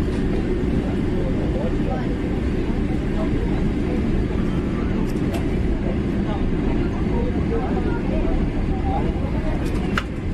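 Airliner taxiing after landing at Lahore airport, a steady loud roar of engine and rolling noise inside the cabin throughout, with faint clicks near the end.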